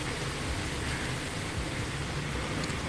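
Heavy rain falls during Cyclone Remal, a steady, dense hiss of downpour that stays constant and fairly loud throughout, with no voices.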